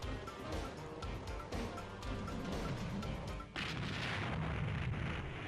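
A helicopter blows up in the PC edition of the laser shooting game Crime Patrol, a run of loud booming crashes and blasts with a sharp shift to a denser rumbling roar midway.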